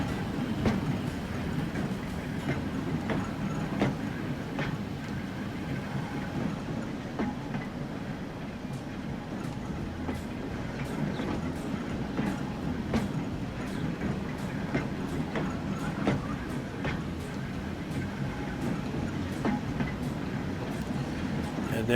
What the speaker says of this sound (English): there's one of our new trams